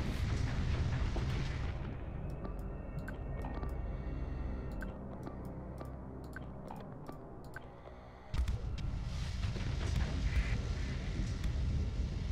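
A ship explodes in Starsector amid space combat, a rumbling roar punctuated by a rapid series of sharp cracking pops, then a sudden heavy blast surges in and sustains a loud roar.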